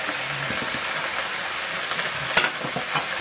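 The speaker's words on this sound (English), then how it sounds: "I'm going to fry it all until it's nice. They're nice and brown, the potatoes," Potatoes and mushrooms fry in a pan with a constant bright sizzle, punctuated by soft stirring clatters and a sharper crackle near the end, no talking.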